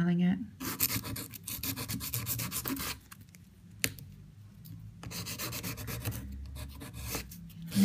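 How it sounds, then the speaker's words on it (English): A nail file rasps back and forth across the edges of a nail wrap in quick, close, repeated strokes, with brief pauses between bursts of filing. "Just filing it."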